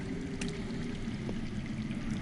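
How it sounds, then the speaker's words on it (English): Underground water flowing in a continuous rushing, trickling wash, steady and moderately loud with no pauses, heard alone. "I hear water. From underground."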